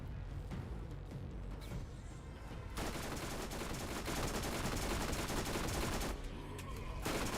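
An explosive SMG fires in Borderlands, producing a dense, continuous rattle of rapid shots and bursts that runs unbroken at fairly low volume, with small dips in intensity.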